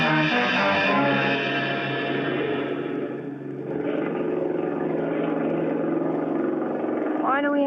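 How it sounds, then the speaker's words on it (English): A loud, steady motor drone, like an outboard engine running nearby, holding a constant pitch throughout. "I better sit here where we can hear that outboard motor"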